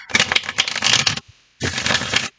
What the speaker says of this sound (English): I will shuffle them again when I come on camera